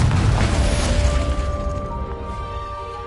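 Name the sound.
Confringo explosion spell from a Harry Potter video game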